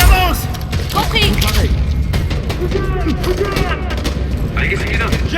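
Covering gunfire in Homefront: The Revolution, loud shots and mechanical clatter running throughout under battle noise, with voices calling out over the shooting.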